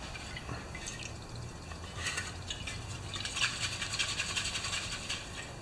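Gasoline drips and trickles from a leaking gas tank on a 1968 Homelite XP1020 chainsaw, a series of small irregular splashes and patters against a steady low background hum, growing busier toward the middle.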